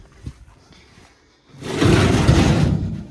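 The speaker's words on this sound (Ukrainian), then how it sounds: "відкриваємо цю дверку." A small access door on a Swedish Volvo 1130 mini combine is opened: a faint click early, a brief pause, then a loud, broad rattling whoosh of metal that lasts about a second before tapering off.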